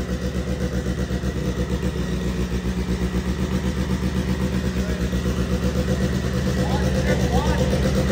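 A methanol-fueled engine runs steadily close by to warm up, its even, pulsing idle continuous throughout and slowly building in level.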